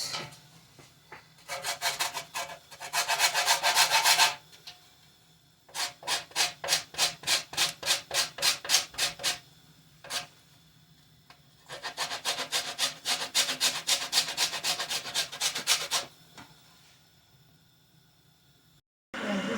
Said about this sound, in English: We go do the grating part.